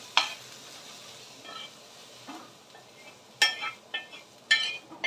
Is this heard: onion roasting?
yes